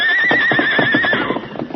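A horse neighs loudly in a long, wavering whinny while its hooves clip-clop in a steady rhythm close by, as a radio drama sound effect.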